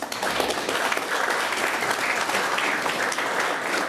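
Audience applause at a fleet cars presentation event in Brno fills the hall, a dense, even wash of clapping that holds steady throughout with no one speaking.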